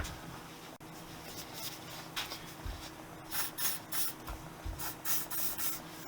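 Lubricant is sprayed onto the seat of a Honda XL250S motorcycle, heard as several short, close hissing bursts over faint background noise, with no talking.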